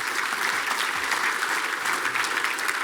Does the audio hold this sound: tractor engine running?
no